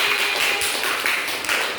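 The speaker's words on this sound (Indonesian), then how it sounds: "Tepuk tangan buat Putri" A class of students applauds a classmate, a short burst of steady, close, overlapping clapping that holds at an even level without talk.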